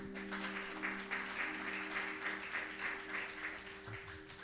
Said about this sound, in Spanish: Entonces aplaudan al Señor.